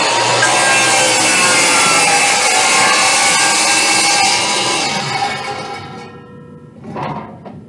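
A plunge saw cuts through wood with a loud, continuous rasping whine that runs steadily for about six seconds, then winds down and stops, followed by a brief clunk.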